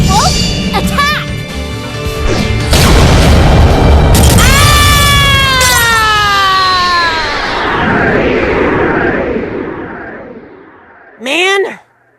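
Heavy Armored Train Ironwolf attacking in the Yu-Gi-Oh Duel Links video game: a loud, sustained booming crash with sweeping whooshes and a burst of impact noise, followed by a short sharp effect near the end, with voices shouting over parts of it.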